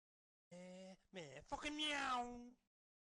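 A cat lets out several close, faint meows, a short one followed by a longer drawn-out cry, heard alone against near silence.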